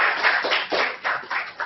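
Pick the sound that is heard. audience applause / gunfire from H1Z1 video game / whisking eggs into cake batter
audience applause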